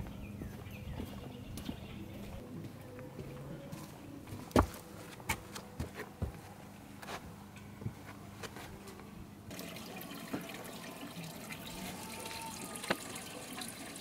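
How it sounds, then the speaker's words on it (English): Water running steadily as a homemade backyard fish pond is refilled after cleaning, a continuous low wash with a few faint splashes and clicks, moderately distant and fairly quiet throughout. "We are now filling the pond back up."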